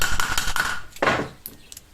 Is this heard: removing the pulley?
yes